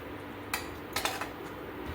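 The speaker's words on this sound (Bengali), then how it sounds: "এবার এটা আমি একটা প্লেট রাখছি" A plate is set down in a home kitchen after a vegetarian kakrol curry with poppy seed and mustard paste is cooked. Several light clinks of crockery against a surface, a single knock followed by a quick cluster of taps, with no voice.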